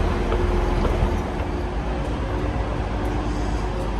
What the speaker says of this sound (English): That is our train we've just used from Cottingley.